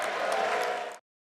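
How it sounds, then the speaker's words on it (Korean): Applause from a large audience greets President Donald Trump as he enters for the State of the Union address, a dense, steady roar of clapping that cuts off abruptly after about a second. "박수갈채 속에 등장한 도널드 트럼프 미국 대통령."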